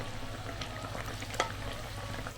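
Bread pakoras frying in hot oil over medium heat, a soft steady sizzle with light bubbling and a few small pops and clinks, fairly faint and without voices.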